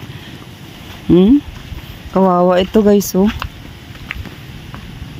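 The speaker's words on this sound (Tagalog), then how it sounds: "Grabe, super lakas ng hangin" Strong wind from Typhoon Gener roars across a banana farm of toppled plants as a steady broadband rush, with someone talking briefly over it.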